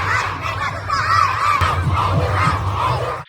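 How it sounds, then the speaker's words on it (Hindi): A large stadium crowd chants AQI in unison at a cricket ground in Delhi. A loud, dense roar of many voices rises and falls in a rhythmic chant and fills the whole stretch. "AQI चिल्लाना शुरू किया"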